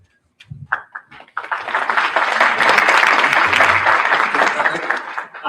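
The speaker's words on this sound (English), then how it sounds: "a lot more hesitation with that clap" After a few scattered, tentative claps, an audience breaks into sustained applause that holds steady for several seconds, with a voice briefly audible at the start.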